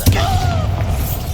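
A Bombarda blasting spell goes off in Hogwarts Legacy, a loud low booming burst with a rumbling tail lasting about a second and a half, mixed with other game sounds.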